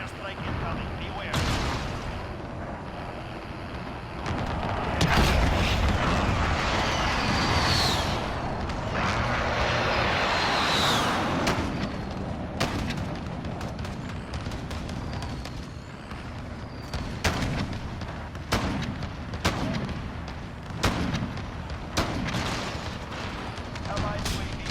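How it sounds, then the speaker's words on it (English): An allied precision airstrike in Call of Duty Modern Warfare Ground War, with heavy explosions and booms mixed into dense gunfire and battlefield noise, loud and continuous, while voices are heard through it. "Allied precision airstrike incoming."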